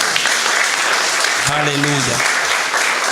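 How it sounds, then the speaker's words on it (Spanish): A church congregation applauds at the close of a sermon, a steady wash of clapping throughout while a voice calls out briefly over it. "Denle un aplauso al Señor."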